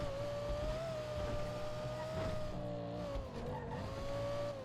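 A car in GTA 5 is driven fast with a steady engine drone and a sustained high whine, faint and continuous throughout, with slight pitch shifts as it corners.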